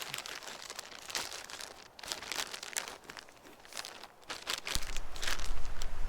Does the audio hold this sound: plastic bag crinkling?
yes